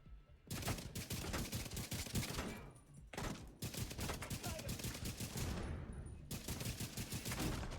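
Rifle gunfire in the video game The Division 2 comes in rapid, sustained bursts of sharp shots. Three long volleys are separated by brief pauses, loud and close, with no speech over them.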